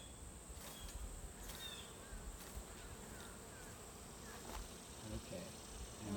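Honeybees shaken off a hive frame hum in a dense, steady buzz during a hive inspection, with a few louder passes of individual bees close by.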